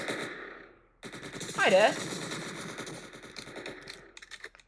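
A burst of rapid automatic gunfire in the video game Entry Point, sharp and fairly loud over game sounds, followed by someone speaking briefly.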